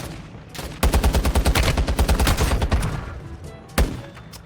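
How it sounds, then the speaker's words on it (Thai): Rapid bursts of automatic gunfire fired from a helicopter in the mobile shooter game Warzone Mobile, a loud sustained rattle of closely spaced shots followed by a short pause and one more sharp burst. "อุ้ยยิงบนฮอเลยเหรอเพื่อน"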